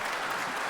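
Brief burst of steady applause, a dense uniform wash of clapping lasting under a second.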